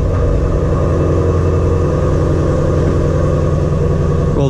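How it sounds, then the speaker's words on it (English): A 2017 Shelby GT350 Ford Mustang engine rumbles loud and close with a deep, steady throb, exhaust valves closed, heard alone without talk. "hopefully the exhaust is pretty good, but we'll go ahead and start it up now."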